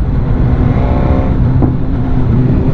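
A BMW S1000R motorcycle, a 2019 model, engine running steadily and loud throughout, a continuous close rumble with a faint brief rise partway through, no voices.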